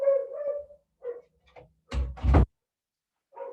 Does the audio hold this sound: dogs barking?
yes